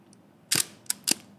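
A film camera's mechanical shutter fires twice up close, each sharp click standing alone in an otherwise quiet room.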